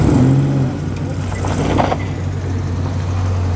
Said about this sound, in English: I hear behind me more V8 goodness, fantastic Chevy.